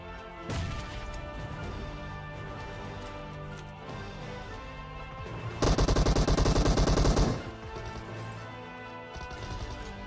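Gunfire in PUBG Mobile: scattered single shots and impacts give way to a loud rapid automatic burst lasting a couple of seconds, then fainter sporadic shots continue.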